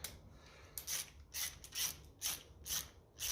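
A ratchet with a 1 7/16 socket works on a 1957 Ferguson FE35 TVO tractor during a valve clearance job, giving about six evenly spaced, crisp clicking strokes, close and fairly quiet.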